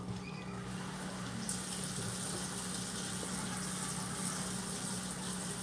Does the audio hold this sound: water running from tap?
yes